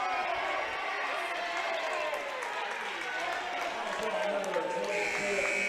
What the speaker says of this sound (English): And a Bronx cheer.